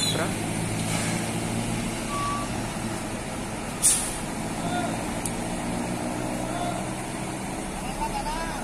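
Tour bus passing along a roadside in Ciamis, heavy engine rumble with a sharp hiss of air brakes partway through, close and loud over background traffic.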